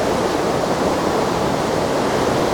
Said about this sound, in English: I think the creek is up slightly still